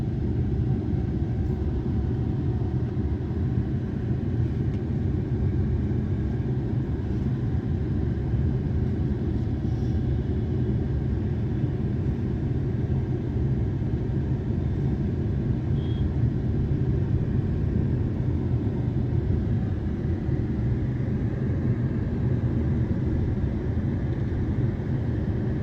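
A Tata Nexon EV on a test drive gives off a steady, low road rumble and tyre hum from inside the cabin, constant and unbroken throughout with no talk.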